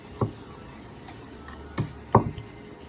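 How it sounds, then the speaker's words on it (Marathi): Banana chapati dough is rolled out with a rolling pin, giving a few soft, scattered knocks and rubbing scrapes against a quiet kitchen background. "आता आपण त्याच्या छोटे छोटे असे गोळे करून घेऊन त्याच्या पोळ्या करून घेणार आहोत ती मस्त मस्तपैकी लाटून घेते"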